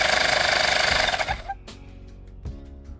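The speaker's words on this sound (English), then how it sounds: "To turn on the compressor, just press the center button." A Xiaomi Mi portable air compressor runs with a loud, rapid, buzzing pulse close by for about a second and a half, then shuts off, leaving a couple of faint clicks and knocks.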